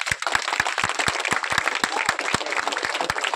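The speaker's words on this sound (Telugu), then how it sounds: "claps claps claps" A crowd claps steadily and densely at an Ambedkar statue unveiling ceremony, a continuous burst of applause with many individual sharp claps close by.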